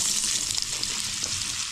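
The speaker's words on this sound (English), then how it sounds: "I'm going to just put them in the frying pan." Potatoes for home fries sizzle in grease in a frying pan on a wood stove, a steady, close, continuous hiss of frying with no voices.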